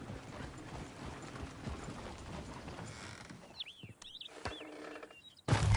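Horses' hooves clip-clop in the Western video game Red Dead Redemption 2, a steady run of hoofbeats that fades out, followed by mechanical creaks and a loud thump at the end.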